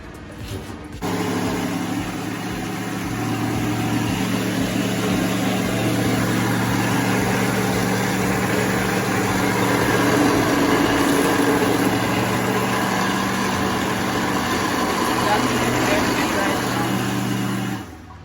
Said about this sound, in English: And it's all set to blend.